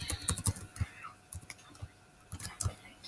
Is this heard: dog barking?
no